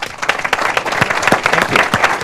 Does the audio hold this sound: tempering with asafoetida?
no